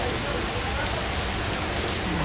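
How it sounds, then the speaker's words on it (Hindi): Light rain falling during a western disturbance in Alwar, a steady dense hiss of drops on surfaces, continuous and fairly close with no voices. "ज़्यादा तेज़ मात्रा में ना होके हल्की रूप में बरसात हो रही है"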